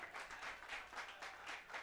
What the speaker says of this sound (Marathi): हा टाळ्यांचा गजर तुमच्यापर्यंत पोहोचतोय